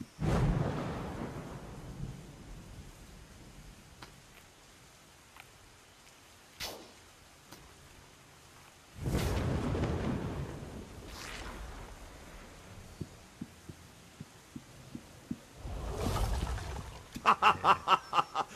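Thunderstorm in the VR game The Wizards: Dark Times: several heavy rolling thunder rumbles a few seconds apart, each swelling and fading, with sharp lightning cracks and a quick burst of crackling strikes near the end.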